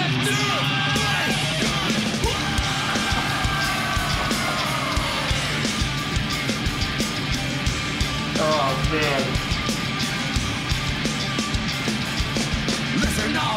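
A packed crowd screams and yells continuously at a live concert in London, a dense, loud, roaring wall of voices that holds for over ten seconds, with occasional sharper shouts rising above it.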